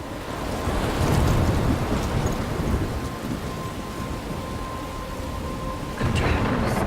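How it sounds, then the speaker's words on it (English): Thunderstorm in the video game Life Is Strange: a steady, dense roar of rain and wind with low rumbling thunder running throughout, swelling into a louder burst near the end, with no voices. "I'm trapped in a storm."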